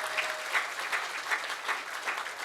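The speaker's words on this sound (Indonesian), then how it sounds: "Beri tepuk tangan buat Ustadz Miftahul Ulum." An audience claps together in a steady wash of applause, with soft rhythmic swells and no voices rising above it.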